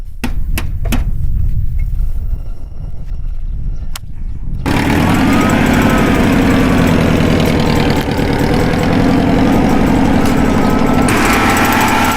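A V4 air-cooled car engine running on LPG, first with a few sharp knocks and mechanical clatter, then starting up into a loud, close, steady buzzing idle that continues throughout.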